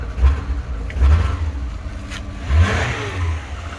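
A Rover 25 car engine of uncertain condition revs up close, rising in three loud surges between steady rumbling.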